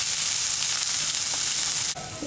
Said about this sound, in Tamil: இப்போ இஞ்சி பூண்டு பச்சை மிளகாய் ஆட் பண்ணிக்கலாம் இது ஒரு நிமிஷம் நம்ம வதக்கிட்டு